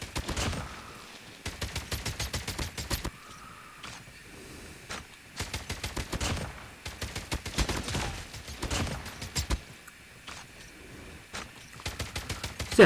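Bursts of gunfire from a medium to long range weapon with a slower fire rate in a ranked shooter video game, several rapid volleys separated by short pauses, crisp and fairly close, with no talk over them.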